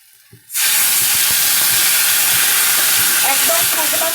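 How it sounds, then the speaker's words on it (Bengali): An eggplant dish frying on medium flame for begun bahar, a loud, dense hiss and sizzle bursting in abruptly after a quiet start and holding steady, with faint stirring scrapes underneath. "তো এটা ভালো করে একটু আমি নাড়াচাড়া করে নেব। আমি মিডিয়াম ফ্লেমে করেই রেখে দিয়েছি।"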